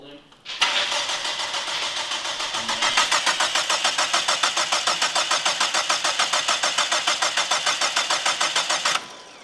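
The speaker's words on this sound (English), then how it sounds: "unfortunately the car is not starting." A PT Cruiser engine cranks steadily with a fast, rhythmic starter churn for several seconds, then cuts off without catching.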